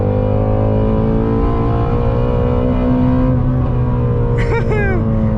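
Engine drone from a Ford Mustang GT350 on a backroad run holds loud and steady, with a brief rising whine near the end. Voices talk over it.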